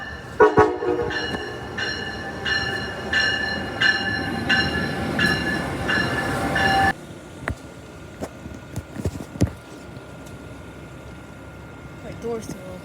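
An Avelia Liberty Acela train approaches the platform at New Carrollton station, its horn sounding in loud repeated blasts over a rumbling roar, followed by quieter rail clanks and squeals as it passes, with a voice talking.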